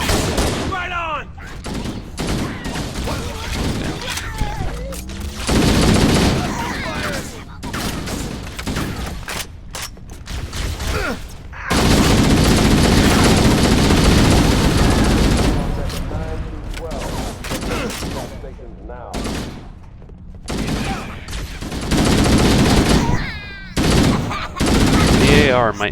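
Assault rifle fire in Halo CE rattles in loud, long automatic bursts broken by short pauses, heavy and close, with occasional blasts and a voice talking at times between volleys.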